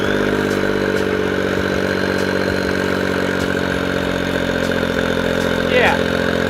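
A Smart ForTwo engine idles with no exhaust fitted, a loud, raw, buzzy clatter with a rapid even pulse, steady and close throughout, with no talking over it.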